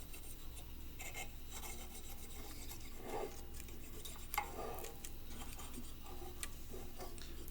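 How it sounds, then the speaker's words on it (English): A dull blade sawing back and forth through FEP film along the aluminum edge of a Phrozen Sonic Mini 4K resin printing vat, a faint steady rasping scrape with small ticks, close and alone. "If you used a sharper blade, it probably wouldn't take so much sawing"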